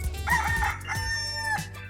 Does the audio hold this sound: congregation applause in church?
no